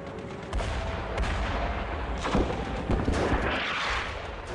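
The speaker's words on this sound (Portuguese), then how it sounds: "Os disparos de metralhadoras aumentam e morteiros começam a cair." Machine gun fire and falling mortar rounds on a Pacific war beach landing, a dense continuous roar of bursts and heavy thuds with sharper blasts near the middle.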